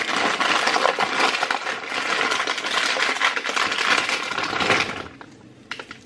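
Dense, crackling crunching of walnuts being broken apart by hand, steady for about five seconds and then tapering off to a few faint snaps.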